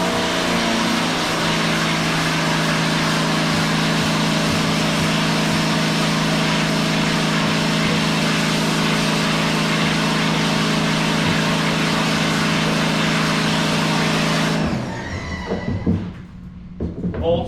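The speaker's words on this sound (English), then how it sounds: "once you've scrubbed both sides of the degreaser, you're going to power wash it again" A pressure washer blasts water across a screen printing screen after degreasing, a loud, steady broadband spray with a constant pump drone that runs without a break for about fifteen seconds, then cuts off abruptly into brief handling clatter.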